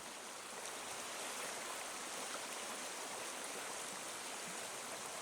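A flowing stream with eroding banks rushes in a steady, broadband wash of water, continuous and fairly close, with no voices over it.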